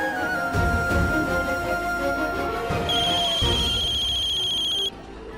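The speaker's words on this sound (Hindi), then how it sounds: "माँ का फोन।" A telephone ringtone rings in a domestic drama scene, a steady repeating high electronic tone entering midway over music and background sound, then cutting off abruptly.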